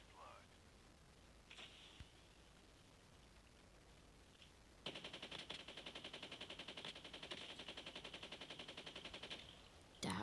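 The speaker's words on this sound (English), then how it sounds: "Someone shooting." Rapid automatic gunfire from a Call of Duty match, a dense sustained burst of evenly spaced shots running through the second half, loud and close, after a quieter stretch with faint game ambience.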